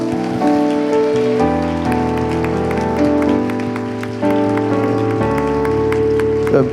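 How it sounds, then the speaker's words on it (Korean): A church congregation claps together during a Sunday worship service, a dense, rain-like patter of applause that runs throughout, layered over sustained keyboard or organ music. "하나님께 다시 한번 영광의 박수 올려주십시오"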